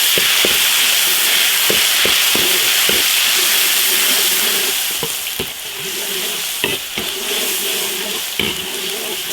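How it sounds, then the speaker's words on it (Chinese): Tomatoes stir-fry in a large iron wok with a loud, steady sizzle and hiss, broken by repeated sharp scrapes and knocks of the spatula against the metal as they are tossed. "西红柿大锅炒。"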